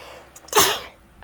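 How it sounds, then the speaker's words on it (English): A single sharp human sneeze from allergies, preceded by a short inhale, close to the microphone in a quiet indoor room. "I'm gonna sneeze."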